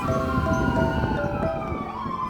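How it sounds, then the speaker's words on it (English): An emergency vehicle siren passing along a city street in Philadelphia, its wailing tone loud and steady over rumbling traffic and engine noise from a sightseeing double-decker bus. "We're going to let this siren go by."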